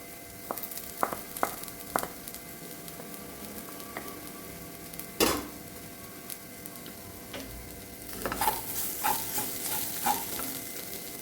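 Boiled potato and breadfruit mix being mashed and stirred in a pan, heard as soft scattered scrapes and taps over a low sizzle, with a brief louder knock midway and a busier stretch of clinks near the end.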